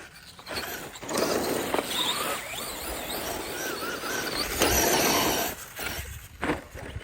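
A Traxxas Slash RC car drives outdoors with a continuous whirring motor that surges and fades as it moves, along with gravelly tire and suspension noise, fairly close and with no talking.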